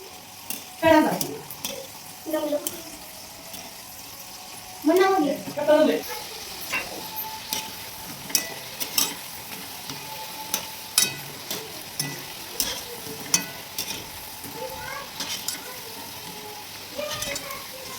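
Modak fry in hot oil with a soft, low sizzle beneath repeated scrapes and clinks of a utensil stirring in the pan, the knocks coming in irregular bursts.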